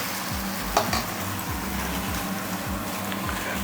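Egg dosa batter cooks on a hot griddle with a low, steady sizzle, overlaid by rhythmic scraping and a metallic clink near the start; no one speaks.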